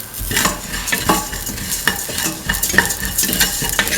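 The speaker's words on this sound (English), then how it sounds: "mix the ginger and the garlic with the rest of the mixture." Garlic, ginger and salt stirred into a frying mixture in a pan: scraping strokes of a utensil against metal repeat every half second or so over a steady sizzle, close and fairly loud, with no talking.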